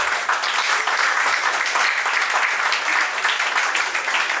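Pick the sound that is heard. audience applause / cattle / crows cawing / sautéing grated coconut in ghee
audience applause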